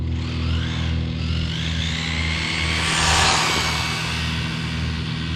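A WLtoys 124018 RC car on a 3S battery makes a high-speed pass, a steady high-pitched electric motor whine that swells to a peak as it passes close, then fades slightly, over constant outdoor background.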